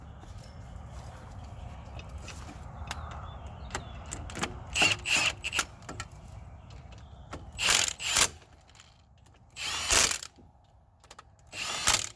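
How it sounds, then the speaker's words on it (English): Impact wrench set to level 2 tightening wheel hub bolts on a 1996-2020 Dodge Caravan or Chrysler Town & Country during a wheel bearing hub repair: low mechanical background, then several short loud bursts of rattling hammering, close by, with pauses between. "I'm going to follow the torque specifications of my impact here, set to level 2."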